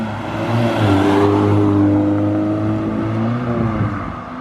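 A Honda Civic Si (EM1) with an aftermarket Type R lower header and Type R mid pipe accelerates nearby with a loud, droning engine note that rises and holds, then eases off.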